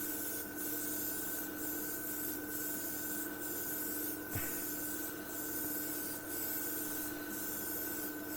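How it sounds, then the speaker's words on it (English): Paint is misted onto the wing of a 1/35 Border Models Spitfire Mk Vb kit as a faint, close, steady hiss with soft recurring pulses and one brief tap partway through; no one speaks. "misting it on, nice even layer"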